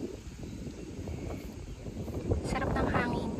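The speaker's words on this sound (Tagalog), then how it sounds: "Sarap ng hangin." Steady wind rumbles and buffets an outdoor microphone, with a faint voice underneath and the gusts growing louder toward the end.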